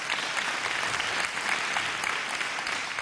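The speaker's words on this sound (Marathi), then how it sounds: "जोरदार टाळ्या होऊन जाऊ द्या त्यांच्यासाठी." An audience claps steadily and warmly at a housing key handover ceremony, a dense, even patter of applause heard at moderate distance without pause.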